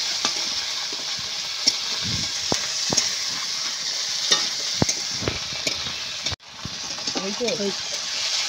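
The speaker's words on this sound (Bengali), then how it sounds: "এই টমেটো তুল দিচ্ছি সব, দিয়ে ভালো করে আবার নেড়ে দেবো।" Chopped tomatoes are stirred into a frying cauliflower and shrimp curry, a constant hissing sizzle punctuated by sharp spatula knocks against the pan, with a brief dip and a short voice near the end.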